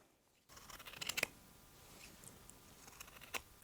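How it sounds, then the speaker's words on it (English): Scissors slicing through four stacked layers of felt, a faint close crunching snip with a brief cluster of cuts early on and another sharp snip near the end, over quiet room tone. "Let's cut 4 layers of felt."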